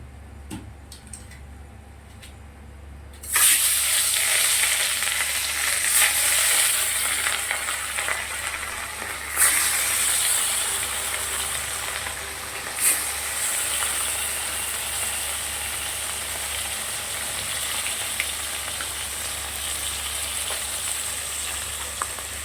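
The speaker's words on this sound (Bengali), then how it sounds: "ভাজা হয়ে গেছে পোলা মাছটা" Hot oil bursts into a loud, steady sizzle of bhola fish frying after a few seconds of quiet, crackling and hissing continuously close by.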